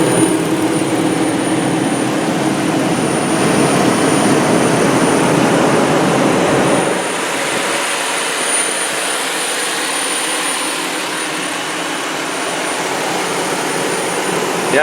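A 2004 Chrysler Pacifica all-wheel-drive engine idles under the open hood, a steady close whirring roar with a thin high whine, then goes slightly quieter and duller partway through as the view moves around.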